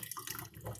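Water running from a tap, a brief steady splashing rush heard close up with no talking over it.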